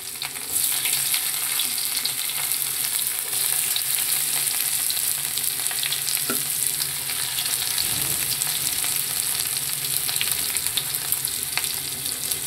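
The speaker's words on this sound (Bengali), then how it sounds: "আর এদিকে এই রসুন পেঁয়াজ যেটা দিলাম সেটা ভেজে নেব" Chopped garlic and onion frying in a pan, a dense, continuous hiss of sizzling oil with faint scraping here and there, close and steady throughout, no voices.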